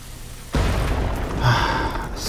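A TNT explosion in The Cave video game bursts in suddenly as a loud, broad boom, then rumbles on with a sustained roar that swells again briefly before trailing off.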